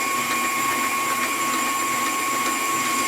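An electric mixer runs on high, whisking a runny batter for vegan, gluten-free donuts. It makes a steady, loud whirring drone that stays even throughout, with no speech.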